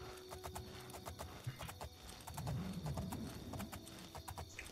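Horse hooves clip-clop steadily in the video game Oblivion, a rhythmic run of close hoof beats mixed with a brief whinny and game ambience, with no talking.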